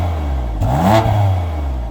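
A 2019 BMW M2 Competition in normal exhaust mode, heard from behind the car, idles steadily, then gives one short rev that swells and falls back to idle.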